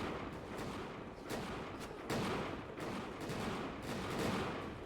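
Battle gunfire in the video game Bannerlord during a 1700s-era British versus French siege: dense, overlapping musket volleys crackle continuously, with louder bursts rising from a steady roar of distant shots.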